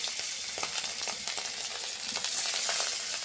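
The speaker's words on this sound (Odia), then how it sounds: "ତେଲ ଦେଖିବା ଗରମ ହେଇଗଲାଣି ମାଛ ପକାଇଦେଲି" Bony kantia fish fries in hot oil, giving a steady close sizzle with dense, fine crackling pops throughout and no voices.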